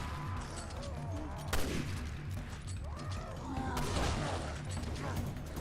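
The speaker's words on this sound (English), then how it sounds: "Let's use the sniper rifle to take care of him." Sniper rifle fire in the video game Resident Evil Revelations 2: two sharp, heavy shots about two seconds apart, each punching through a dense, constant bed of game music and ambience.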